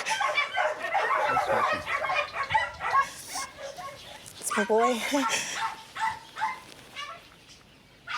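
A dog yips, whimpers and barks in short, excited bursts close by, mixed with people talking over it.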